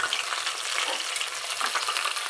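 Portobello mushroom fries deep-fry in hot oil, a dense, continuous crackling sizzle full of tiny bubbling pops, close and steady, with no voices over it.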